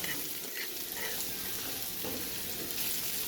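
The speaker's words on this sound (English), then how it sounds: "So as I'm sitting here stirring and sauteing my vegetables" Vegetables for shrimp fried rice sautéing in a pan, a constant close hiss of frying with soft stirring movements underneath.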